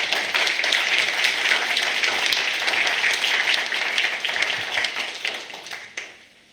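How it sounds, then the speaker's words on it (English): Town hall audience at a city budget meeting breaks into sustained applause, a dense crowd of clapping hands steady for about six seconds before tapering off and fading at the end. "Let's give them a well-deserved round of applause"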